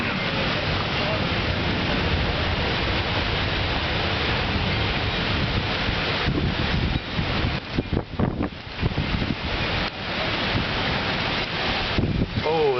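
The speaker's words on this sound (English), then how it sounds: "Here comes the rain." Rain and gusting wind roar in a constant broadband wash during a summer lightning storm in Yakima, Washington, with brief voices near the end.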